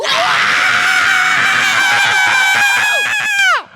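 A group of people screams in unison, a loud sustained shriek that holds steady for over three seconds before cutting off sharply at the end.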